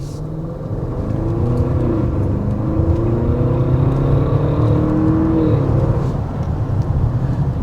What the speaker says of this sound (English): Give you another exhaust clip.